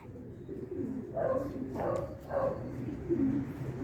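Racing pigeons, mostly cocks with one hen, arrive back from a club training release and coo in several low, soft calls over a steady background rumble.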